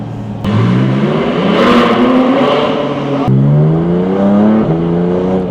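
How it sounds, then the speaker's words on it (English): A Porsche GT4 RS sports car's engine revs loudly from inside while driving, climbing through rising pitch sweeps with a sharp shift break midway, then pulling hard again. "this car is super fun to rip"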